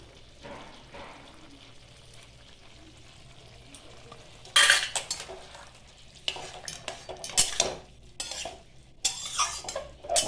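Poppy seed paste and green chili paste going into a curry in a pan, with a spoon stirring and scraping against the metal over a soft, continuous sizzle. The scrapes come in several louder bursts.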